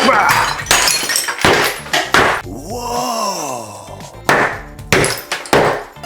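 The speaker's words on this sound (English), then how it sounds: "You take a hammer and then you just go to town on it." A hammer smashes into a tiled shower wall during a master bathroom demolition, with several loud, sharp crashing impacts and breaking debris spread across the clip, and a voice exclaims partway through.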